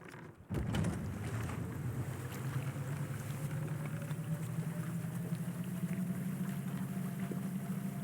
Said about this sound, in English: Go on a magical boat ride.